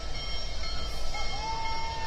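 Big Boy 4014 locomotive moves along Horseshoe Curve with a steady, distant rumbling roar, and a faint thin whine rises briefly partway through.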